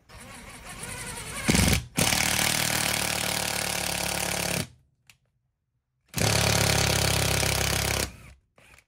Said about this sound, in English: then start drilling holes